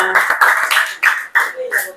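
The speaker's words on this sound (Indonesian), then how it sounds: "Tepuk tangannya dong semua." A class of students claps together in several bursts over about two seconds. The applause is loud and close and is mixed with children's voices.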